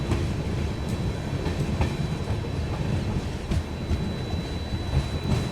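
Duronto Express passenger train on the Delhi–Bikaner section switching from the main line onto a station loop line, steady rumbling clatter of wheels over rails with occasional clicks at joints, heard from inside the coach.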